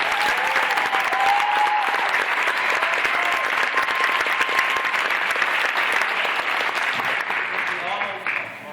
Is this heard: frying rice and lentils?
no